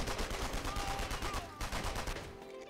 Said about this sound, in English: I'm also gonna shoot this guy